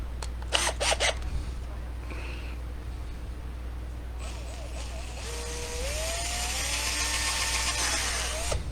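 A power drill with a worn bit whirs steadily with a high-pitched rising whine, close by, after a few sharp taps and a brief quiet stretch, while working on a custom Uniden Grant CB radio.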